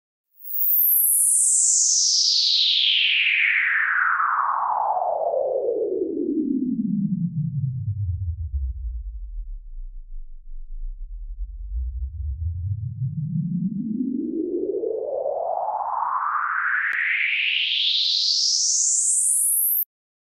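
Filtered white noise from the Harmor synth in FL Studio sweeps slowly downward into a low rumble, then rises steadily back up to a bright hiss, a smooth symmetrical whoosh with no talking.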